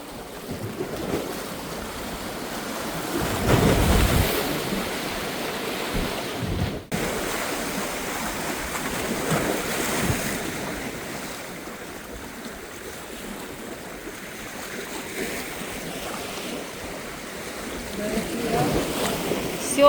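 Rough sea waves on the shore at Fontanka during a dawn fishing trip, a continuous wash of surf with several louder surges, mixed with gusty wind buffeting the microphone and occasional voices.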